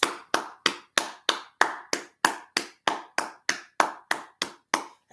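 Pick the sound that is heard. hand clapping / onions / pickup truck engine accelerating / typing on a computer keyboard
hand clapping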